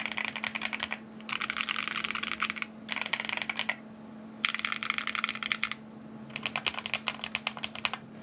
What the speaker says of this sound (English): the PBT seems to make it clack more